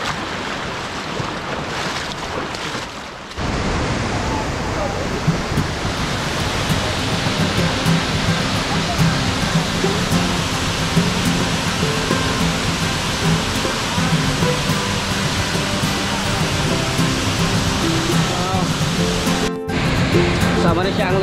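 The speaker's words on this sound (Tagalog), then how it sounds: "This is probably the tallest falls" Waterfall in Claveria, Misamis Oriental, a tall falls on a forest ride, roars as a steady broadband rush of falling water, loud and continuous for the whole stretch with a brief dip near the start.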